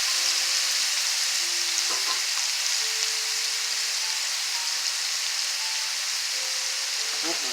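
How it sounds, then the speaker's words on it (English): Rib tip meat stir-fried in a hot pan gives a steady, close sizzle and hiss, with occasional scraping and clinks of stirring and no talking. "stir fry it up nicely"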